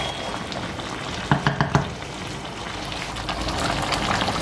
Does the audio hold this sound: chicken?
yes